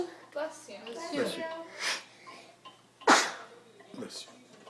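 A person sneezes several times in a home kitchen, with a sharp loud burst near the middle among smaller sneezes and breaths, while other voices talk in between.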